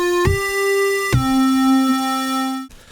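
Arturia MiniBrute 2 synthesizer plays a bright, buzzy lead line with velocity-controlled metalizer, two sustained notes stepping down in pitch, each starting with a sharp attack, ending abruptly.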